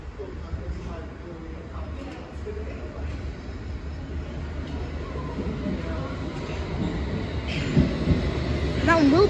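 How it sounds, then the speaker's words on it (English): A London Underground Chesham train arrives at Chalfont and Latimer station, a steady rumble of rolling stock building toward the end with rising wheel squeal, while voices talk over it. "another Chesham train arrives from Aldgate"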